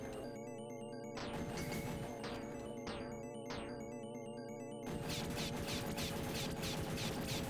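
Rapid gunfire crackles through the Aliens arcade video game in dense, continuous bursts with sweeping electronic effects and a pounding game soundtrack underneath, loud and unbroken, with no talking.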